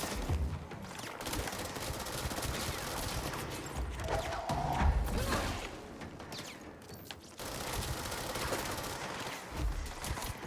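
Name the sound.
gunfire in the video game Control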